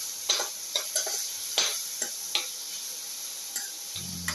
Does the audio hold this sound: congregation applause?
no